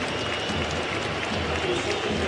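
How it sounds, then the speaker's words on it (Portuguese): Stadium crowd at Allianz Parque during a Palmeiras Libertadores match, a broad, steady roar of clapping and scattered jeers from a distance, unbroken and even under a faint voice. "poucas vaias, mais aplausos e muita gente deixando o Allianz Parque feliz com a classificação"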